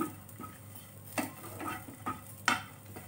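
Small chopped coconut pieces sautéing in a pan, a faint low sizzle broken by a few sharp clinks of a spoon against the pan, close and quiet with no voices.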